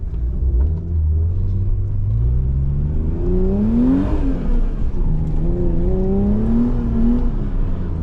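A Volkswagen Golf 7 with a 1.4 TSI engine revs hard during a race against a BMW, its deep rumble rising and falling through repeated accelerations. The sound is loud and continuous, heard from close outside the car, with no talk.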